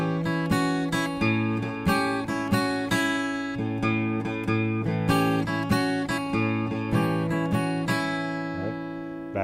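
Acoustic blues guitar is fingerpicked cleanly and up close, a steady bass note thumping under a repeating three-note melody over a held chord, each pluck ringing with even rhythm.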